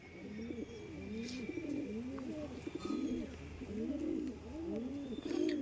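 Pigeons in a loft coo continuously, several birds overlapping in low rolling calls at close range, with occasional faint chirps and bits of quiet talk in the background.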